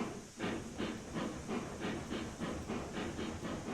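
Steam locomotive in the RailRoads Online game letting off steam, a steady loud hiss pulsing in a regular chuffing rhythm with no talk over it.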